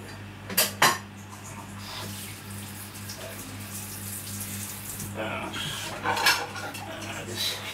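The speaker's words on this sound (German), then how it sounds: "Und jetzt muss ich die Enten noch mal waschen." Dishes, pots and cutlery clatter in a kitchen sink under running tap water while ducks are washed before roasting, with a few sharp clanks standing out over the steady splashing.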